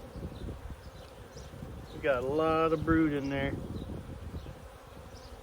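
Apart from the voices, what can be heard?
honeybees buzzing around hive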